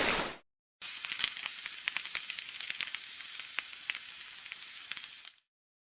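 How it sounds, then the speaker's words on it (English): Food sizzles on a barbecue grill in a steady, close frying hiss with scattered pops and crackles, heard alone after a short opening burst, then cut off abruptly. "You heard a barbecue or grilling."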